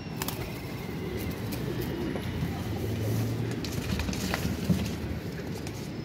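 A flock of teddy pigeons coos steadily in a loft, low overlapping calls forming a dense, continuous murmur, with faint background clatter and rustling throughout.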